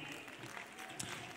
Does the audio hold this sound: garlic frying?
no